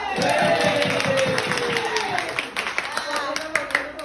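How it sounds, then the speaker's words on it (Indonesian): A school class claps in rhythmic bursts while children's voices chatter and call out over them, the clapping becoming looser and more scattered toward the end. "tepuk tangan dulu."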